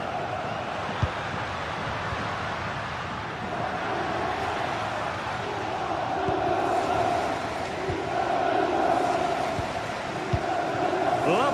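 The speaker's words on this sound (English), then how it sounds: "Well, just listen to this crowd." A large stadium crowd in a football video game roars and chants steadily throughout, a dense sustained wall of noise with occasional swells and no clear voices standing out.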